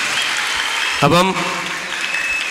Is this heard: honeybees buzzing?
no